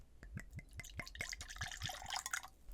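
A drink is poured into a glass, a quick run of gurgling, dripping splashes building into a steady fill, close and fairly quiet.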